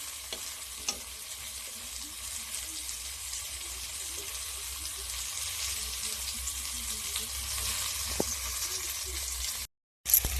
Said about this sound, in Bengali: এগুলো আমার ভাজা হয়ে গেছে এবার তুলে নেব